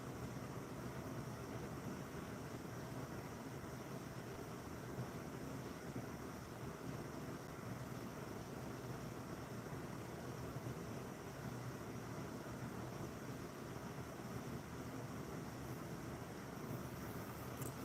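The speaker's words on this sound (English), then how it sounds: "sound like a jet flying. It's actually the water coming through the" Water rushing down through a downpipe makes a steady, loud broadband roar like a jet flying over, unbroken and unchanging in level throughout, with no voices.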